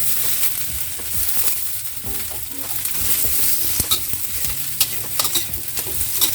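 Cabbage stir-fries with dried shrimps in a hot pan, giving a steady close sizzle under scraping and clacking stirring strokes that grow more frequent toward the end, with no talking.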